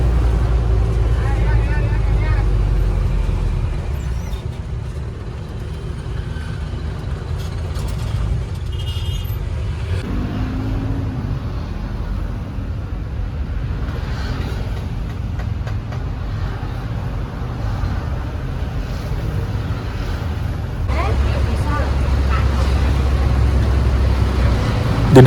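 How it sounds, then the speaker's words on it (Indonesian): Busy but free-flowing road traffic on Jalan A. Yani in Surabaya, a steady loud rumble of passing cars and heavier vehicles close by, swelling near the end, with a voice talking over it in places. "untuk situasi lalu lintasnya sedang ya ramai lancar ya"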